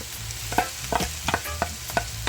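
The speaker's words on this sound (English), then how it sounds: "Okay, guys, I'm gonna add my peppers." Peppers stirred into a sizzling pan for Jamaican bully beef: a steady frying hiss with repeated scraping stir strokes at a quick, regular rhythm, close by and moderately loud, with no voices.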